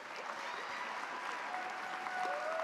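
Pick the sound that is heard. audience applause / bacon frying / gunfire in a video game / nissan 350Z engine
audience applause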